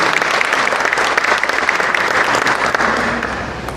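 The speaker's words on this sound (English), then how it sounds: "Let us all join and give a big round of applause to Dr. Savita and her team for excellent organization" Dense, sustained applause from a large audience at the Commonwealth Forestry Conference in Dehradun, loud and steady throughout and easing slightly toward the end.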